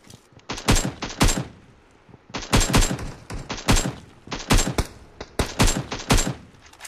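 Gunfire in the mobile battle-royale game Battlegrounds Mobile India: several rapid bursts of automatic shots, loud and close, separated by short pauses, with no talking over them.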